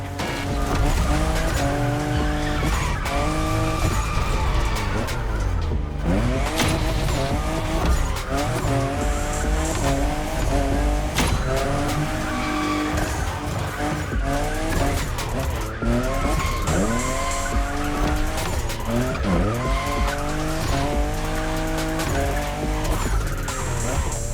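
A Toyota Supra, fifth generation, races in The Crew Motorfest, its engine revving up and down in repeated bursts while tires squeal and skid through corners, loud and continuous throughout.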